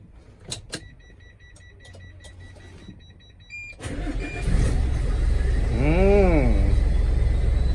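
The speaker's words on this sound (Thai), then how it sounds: "ฟังเสียงเครื่องยนต์ครับ ว่าจะเป็นยังไง" A Hino J07E 210 hp diesel truck engine starts up after a few clicks and settles into a loud, steady running rumble close by, with a rising whine over it.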